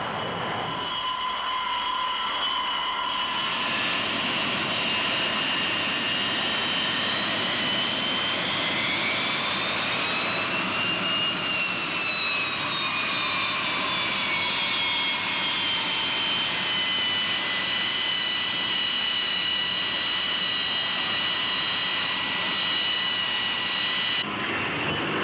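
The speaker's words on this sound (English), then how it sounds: "The approach of the carrier on-board delivery plane is a welcome sight" Carrier on-board delivery plane approaching an aircraft carrier during the Vietnam War, a loud continuous propeller engine drone whose pitch slowly rises then settles as it nears, sustained throughout with no talk.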